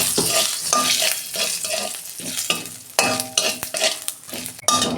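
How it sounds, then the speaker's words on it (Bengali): Bay leaf and whole cumin seeds frying in a small amount of oil in a pan for a fish curry, a steady close sizzle with repeated scraping stirs and occasional utensil clinks throughout. "একটা তেজপাতা দিচ্ছি, গোটা জিরে দিচ্ছি, ফোড়নটা আমি 2 মিনিট ভেজে নেব।"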